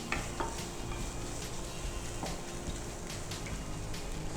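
Egg noodle ingredients fry in a pan with a steady, moderately loud sizzle, broken by occasional light scrapes and clinks of a stirring utensil.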